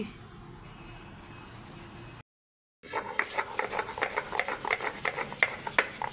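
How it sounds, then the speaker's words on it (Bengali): Onion and green chilli are ground into a paste on a grinding stone for a hilsa fish recipe, making steady rhythmic rasping strokes up close after a brief silence, with a voice audible underneath. "এখন আমি পেঁয়াজ বেটে নিচ্ছি আর কাঁচা লঙ্কা বেটে নিচ্ছি"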